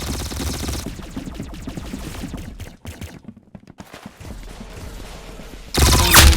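Gunfire erupts in the shooter game Arsenal, bursts of rapid shots and impacts with brief quieter gaps, ending in a loud harsh blast.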